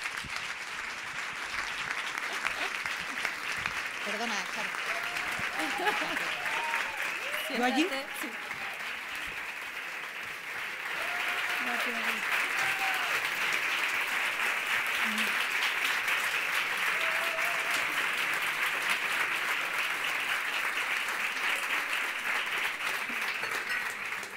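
Audience applause at a live podcast recording, sustained clapping from a seated crowd that swells and continues throughout, with a voice speaking over it early on.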